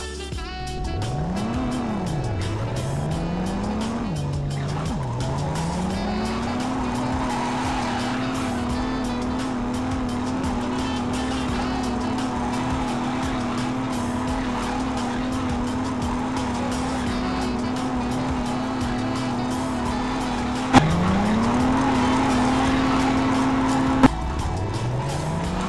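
Heavy rear-drive car with over 400 horsepower and negative camber, simulated in a car physics demo, revs and swings its engine pitch while drifting, tires squealing in long sustained slides with a couple of sharp impacts late on.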